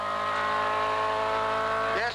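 Ford Falcon touring cars at the 1980 Hardie-Ferodo 1000 at Bathurst roar loud and close with a sustained harmonic engine whine, rising in pitch near the end, under race commentary.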